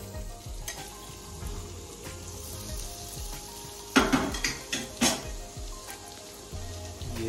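Chicken cutlets frying in hot oil in a wok at an outdoor cooking setup, a continuous crackling sizzle punctuated by a few sharp clinks and scrapes of a utensil against the pan partway through.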